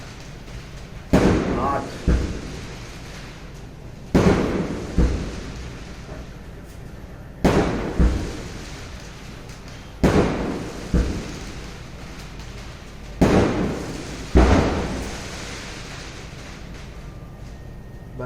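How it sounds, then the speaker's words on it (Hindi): Firecrackers burst outside in a series of loud booming cracks, usually in pairs a second apart, repeating every few seconds over someone talking steadily indoors. "बॉम्ब फट रहे थे बाहर।"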